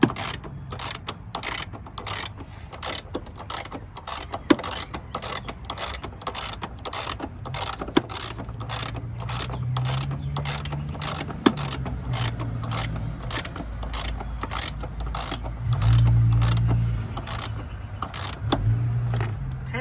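A ratchet tightens the upper control arm bolts on a Honda Civic, giving a long run of rapid, evenly spaced clicks close by, with a low mechanical hum underneath.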